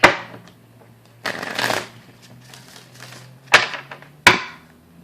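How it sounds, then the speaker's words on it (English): Cards are shuffled in several quick riffling bursts with sharp snaps and pauses between, close and fairly loud. "I'm going to shuffle this deck."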